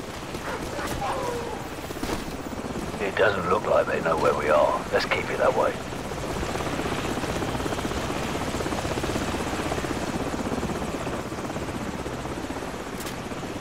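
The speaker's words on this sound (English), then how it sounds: "Hold on, the helicopter's back." Helicopter flying overhead in the Call of Duty 4 video game, a steady rotor drone running under the whole stretch while voices talk over it.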